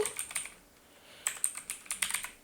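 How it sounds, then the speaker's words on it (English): Quick keystrokes on a computer keyboard while entering text in OBS, heard as two short bursts of clicks separated by a brief pause, close and clear with no talking. "in this text field I'm typing now playing"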